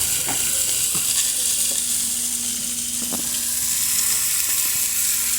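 Spiced lamb sears in a hot pan with a constant loud sizzle and crackle, a few soft clinks and stirring scrapes breaking through the steady frying hiss.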